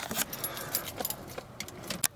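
Keys jingle and clink in repeated quick bursts inside an old Mercedes 190E, close and fairly quiet, ending with one sharper metallic clack.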